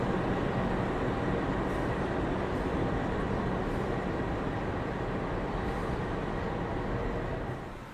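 Freight train rolling into track 4 at a railway station, a steady, loud broadband rumble of wagons that holds evenly throughout and eases slightly at the very end.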